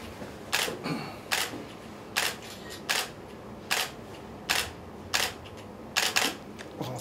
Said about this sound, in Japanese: 写真撮影です